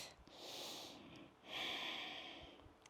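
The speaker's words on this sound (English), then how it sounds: "Take a breath" Two deep breaths taken during a gentle chair yoga class, a long airy inhale followed by a fuller exhale, soft and close with no talking.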